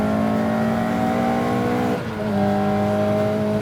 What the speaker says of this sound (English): This is a tarmac rally car.